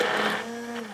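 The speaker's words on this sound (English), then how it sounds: "I'm gonna put the immersion blender in" A steady electric whir of an immersion blender making mayonnaise, running continuously close by, with a constant hum throughout.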